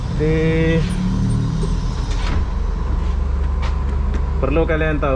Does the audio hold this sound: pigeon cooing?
no